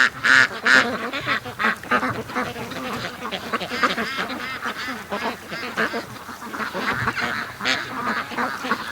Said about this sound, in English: there's still a lot of ducks in the yard